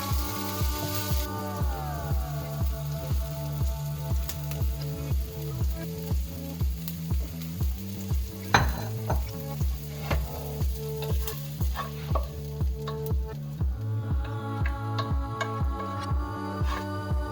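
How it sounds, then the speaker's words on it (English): Sausage sizzling as it is sautéed in a pan for ketchup fried rice, a steady close crackle and hiss with a regular rhythmic stirring or scraping pattern throughout, no talk. "Add the sausage and saute until fragrant aside."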